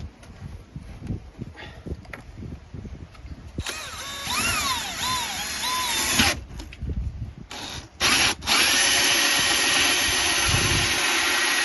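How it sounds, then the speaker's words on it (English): A power drill bores a hole for a fresh water inlet in a tank under a seat. It whines and revs in bursts with rising and falling pitch, then runs steadily and loudly up close. "let's drill this hole"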